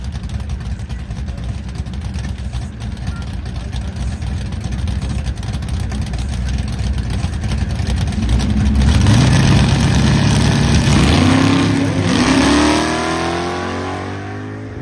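A 1954 Impala at airport drag races idles roughly, then its engine roars louder as it launches and accelerates hard, with rising revs and gear changes, up close and with no talking.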